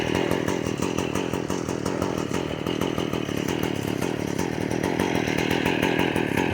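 A 2005 Yard Machines lawn mower in worn, failing condition runs loud and steady at close range, its small engine buzzing harshly with a constant rattling clatter.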